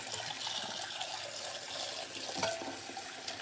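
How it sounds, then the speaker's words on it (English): Cold tap water pours steadily over soft-boiled eggs sitting in a strainer in a kitchen sink, a continuous close splashing rush with a brief louder spatter midway. "move them to the strainer, and we're pouring cold water"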